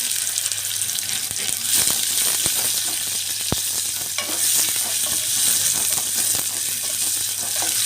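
Sliced onions sizzle and fry in a pan for coconut rice, with steady crackling and a few scraping stirs and clinks of the spoon throughout.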